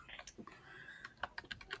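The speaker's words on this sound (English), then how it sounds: "I hear you typing away" Rapid clacking of a computer keyboard being typed on, irregular bursts of keystrokes close to the microphone in a quiet room, with no talking over them.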